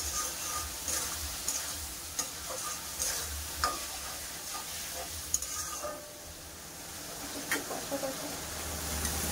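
Masala paste with cumin and chilli powder being sautéed for a Bengali katla fish curry with potato, giving a low steady sizzle with scattered scraping stir clicks, close and fairly quiet, no talking.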